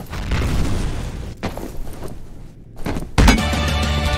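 Grenade blast in the multiplayer shooter F.E.A.R. Combat, a sudden loud broadband boom late in the clip that sustains into a rumbling tail, following busy game noise with a brief near-silent gap just before the detonation.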